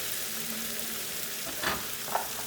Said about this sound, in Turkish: Ortalama 2-3 dakika salçayı bir kavuracağız